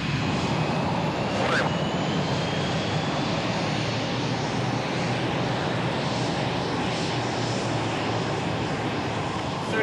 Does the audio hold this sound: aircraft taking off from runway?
yes